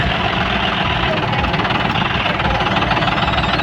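A tractor engine idles with a steady, close, low rumble and a knocking vibration that holds without pause.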